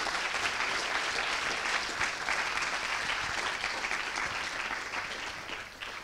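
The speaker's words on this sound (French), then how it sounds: "on l'applaudit une fois de plus" Sustained audience applause at a Ma Thèse en 180 secondes final, a dense, even clatter of many hands clapping in a hall, steady and loud throughout with no voices.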